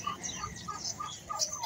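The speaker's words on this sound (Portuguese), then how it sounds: "Tem uns passarinhos bonitos aqui também" Small caged birds at a roadside shop, a quick string of faint high chirps and tweets repeating every fraction of a second against a soft background.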